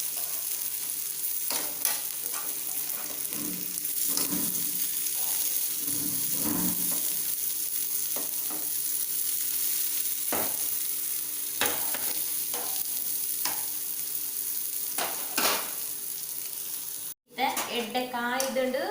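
Brinjal frying in a pan over a medium flame gives a continuous close sizzle with intermittent spatters and stirring clinks, ending in a brief burst of other sound after a cut.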